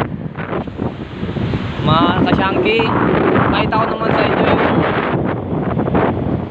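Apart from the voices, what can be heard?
sea waves and wind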